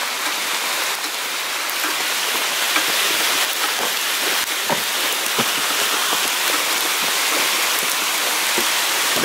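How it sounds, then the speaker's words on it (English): Hail comes down hard during a storm outside a building at a mine, a dense, steady hiss broken by sharp ticks and pelting hits across the ground, with no voices. "You can hear the hail coming down"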